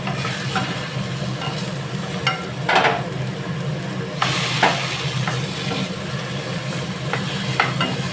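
Stuffed ash gourd pieces frying in hot light oil, a steady bright hiss with a low hum beneath, broken by a few louder spattering bursts and light scrapes of a utensil, close and continuous.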